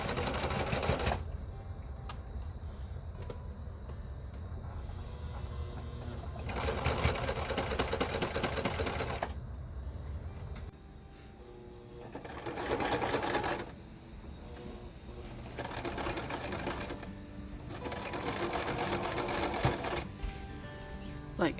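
A sewing machine stitches in several bursts of fast, rattling clatter separated by quieter pauses while its bobbin winds at the same time, heard close and alone.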